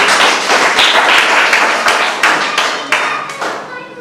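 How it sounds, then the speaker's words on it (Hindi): An audience claps loudly and enthusiastically at a business product presentation, a dense burst of applause with sharp distinct claps that gradually thins and fades toward the end. "मैं चाहता हूँ उसके लिए जबरदस्त ताली होनी चाहिए।"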